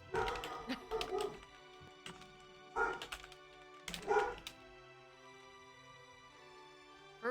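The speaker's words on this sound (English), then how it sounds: "For a minute, I thought that was Bucket barking" A dog barks in a few short bursts, fairly close, with quiet gaps between them and a faint ringing hum underneath.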